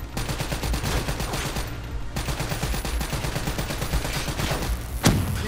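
Rapid automatic gunfire from Call of Duty: Black Ops III rattles continuously in dense bursts, loud and close, with a sharp heavier shot near the end.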